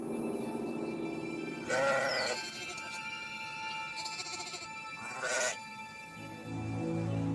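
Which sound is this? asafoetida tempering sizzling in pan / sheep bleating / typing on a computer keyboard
sheep bleating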